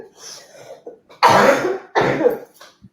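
Two harsh, loud chesty coughs burst out one after another, unable to bring up thick mucus, preceded by softer breathy sounds and throat noises.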